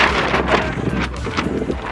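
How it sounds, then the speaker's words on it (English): Gusty outdoor wind buffeting the microphone beside a wood cooking fire at an off-grid camp, a loud, steady rumbling roar with soft swells, no speech heard. "Out here kind of windy, you know."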